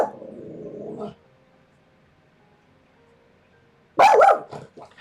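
A dog close by gives a drawn-out growling whine that lasts about a second, falls quiet, then lets out a loud, sharp bark and a short follow-up yelp.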